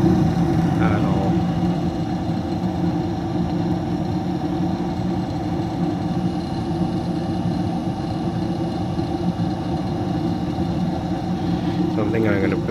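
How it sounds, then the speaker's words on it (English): Steady motor hum from a York Affinity modulating furnace that is producing no heat, running continuously at a constant level with a mid-pitched drone and no break throughout. "Not liking the sound of this motor"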